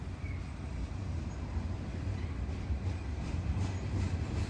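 Rail cars roll past with a low, steady rumble and faint clatter of wheels on track, quiet and somewhat distant, with no voices.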